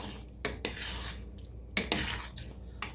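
Spoon stirring canned corn into creamy potato soup in a pot, several close metallic scrapes and clinks at irregular intervals, with soft bubbling between them.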